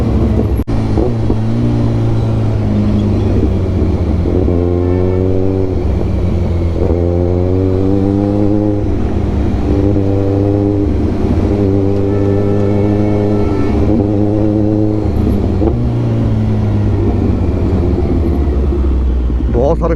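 A Kawasaki Ninja 1000 with a full Austin Racing exhaust system on a crowded city ride gives a loud, close engine drone that rises and falls through repeated throttle pulls, with a voice talking over it.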